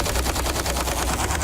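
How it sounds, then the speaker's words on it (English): A gun built on a wheel is test-fired, giving a dense, rapid burst of loud repeated bangs that runs without pause through the whole moment. "before the bad guys arrive, they could fire off one quick test"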